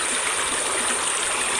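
The Aghanashini river rushes along in a steady, dense wash of flowing water, loud and close, with no break and no talking over it.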